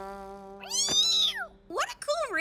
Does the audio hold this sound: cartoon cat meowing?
yes